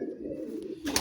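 A single pigeon gives a soft, low, rolling coo close by, followed by a brief brighter rustle at the end. No voices are heard.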